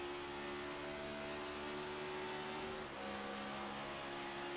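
A Next Gen Cup Series race car at Nashville Superspeedway drones steadily at speed, its engine tone dipping briefly as it shifts gears before corner entry, then carrying on loud and continuous.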